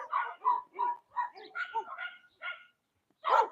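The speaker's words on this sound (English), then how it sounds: "Can y'all hear those dogs barking?" Several dogs barking in quick succession, sharp yips and woofs in an irregular rhythm, fairly close, with a short pause before a final bark.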